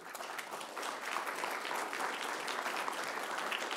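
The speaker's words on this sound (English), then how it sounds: "Oh no, you can't clap every time one of us gets up here." Audience at a constitutional history lecture applauds as a co-author steps up, a quiet but continuous wash of many clapping hands heard from some distance, with no voices over it.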